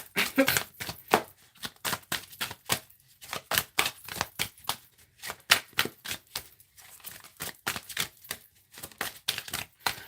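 Tarot cards are shuffled close up in a rapid series of sharp riffling snaps and taps, uneven bursts with short pauses between, with no talk over them.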